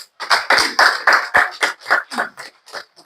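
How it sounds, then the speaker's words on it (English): Applause for the Honorable Minister at the close of a formal speech, heard as a steady run of loud, evenly spaced claps close by, about three per second, alone with no talk. "Another round of applause for the Honorable Minister."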